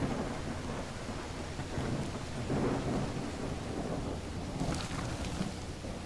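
Steady heavy rain pours across the scene in the video game Call of the Elder Gods, with low rumbling thunder rolling underneath and a brighter crackling swell near the end, continuous and enveloping.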